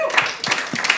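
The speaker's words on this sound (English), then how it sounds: "Give them a clap." A small audience applauds in a room, with a brief burst of overlapping claps mixed with voices.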